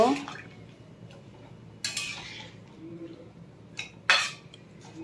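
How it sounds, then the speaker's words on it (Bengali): A metal spoon stirs boiled bottle gourd peels with turmeric in a pot, giving a few sharp clinks and scrapes against the metal over a soft, steady background. "এবার এই লাউয়ের খোসাগুলো সব একটু সেদ্ধ করে নেব। একটু মিশিয়ে দেব।"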